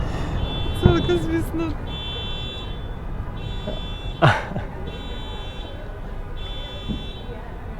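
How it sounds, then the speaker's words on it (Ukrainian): Car alarms beep and wail in the distance at night during Independence Day fireworks, steady tones under scattered noises, while people talk nearby. "Машини пищать. Психують."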